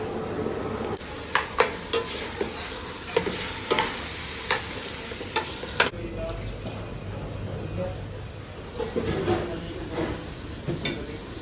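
Tomato paste sautéing in a pan while a spoon stirs it, with soft sizzling under repeated scraping knocks and clacks against the pan, plus a short burst of louder frying partway through.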